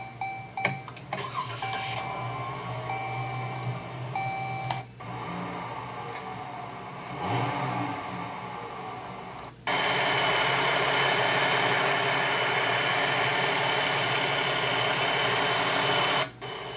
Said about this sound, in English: The only sound you have are the video clips of the startup and the engine notes.